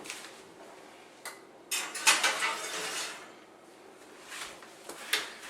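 A baking dish of ground beef enchiladas slides into a preheated oven, with a few sharp clinks and scrapes of glass and metal rack, close and moderately loud in a quiet kitchen.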